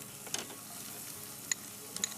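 Onion frying in a pan: a soft, continuous sizzle with a few sharp clinks and scrapes from stirring, close and fairly quiet, with no talking.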